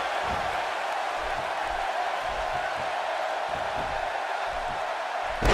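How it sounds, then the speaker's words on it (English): A wrestling arena crowd in El Paso roars without pause at a WWE SmackDown show, a dense, loud wash of cheering and noise that holds steady throughout. "it sounds to me, guys, like this El Paso crowd is doing everything in their power to blow the roof off this place"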